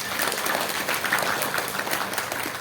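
An audience at an Islamic tabligh akbar gathering in a Bandung housing estate breaks into brisk, dense applause, a short continuous burst of many hands clapping at once.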